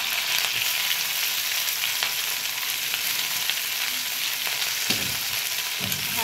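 Green chillies fry lightly in a pan for a small-fish dish, producing a loud, even hiss of sizzling oil throughout, with a couple of faint stirring knocks near the end.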